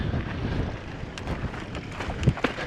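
Wind gusting across a microphone on a steep, rocky Nevada mountain bike trail, a steady low rumble and buffeting that swells and dips throughout without any talk.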